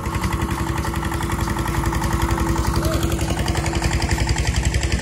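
A farm tractor engine runs near a vegetable plot, giving a steady, close, rhythmic chugging with a fast regular pulse that holds at an even level throughout.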